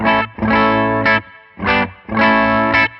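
A distorted electric guitar through a tube amp plays loud, chunky chord stabs in bursts, with brief silent gaps between the phrases.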